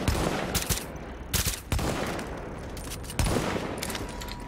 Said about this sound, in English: I don't know if the shots go through.